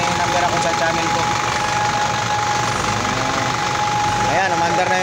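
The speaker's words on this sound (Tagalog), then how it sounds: "Ayan, umandar na yung 4HG1 na makina." An Isuzu 4HG1 diesel engine running just after piston ring installation: loud, close, steady clattering idle with a rhythmic knock throughout and a brief whine near the end.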